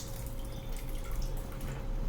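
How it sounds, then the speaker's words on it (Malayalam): Water trickles and drips steadily into a pan of soya chunk kootu curry as it cooks, a soft continuous liquid sound close by with low background hum and no talking. "കുറച്ച് വെള്ളം ഒഴിച്ച് ഞാനത് വേവിച്ചെടുക്കുകയാണ്"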